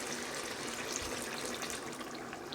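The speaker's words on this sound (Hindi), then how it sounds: "अब हम इसके अंदर तकरीबन 1 गिलास पानी डाल के" About a glass of water is poured into a pot of achar lamb masala as it cooks. The pour is a soft, steady splashing that runs throughout, fairly quiet, with no voices.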